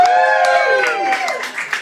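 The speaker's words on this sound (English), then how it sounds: "Give it a round of applause for Alexandra" An audience at a club wig party claps and cheers for a contestant, with scattered applause beneath a loud, gliding voice that whoops over the crowd.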